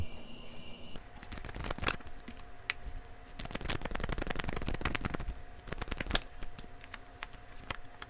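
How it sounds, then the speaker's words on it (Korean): Tarot cards shuffled by hand in a series of dense, crisp riffling bursts with short pauses between them, close and fairly quiet, with no voice over them. "좀 더 자세한 내용을 타로 카드로 뽑아보도록 할게요."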